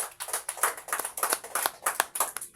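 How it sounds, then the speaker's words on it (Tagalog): Audience clapping at a church celebration in the Philippines, a brisk run of fairly faint, uneven claps lasting a few seconds with no voices over it. "Pumalakpak dali man."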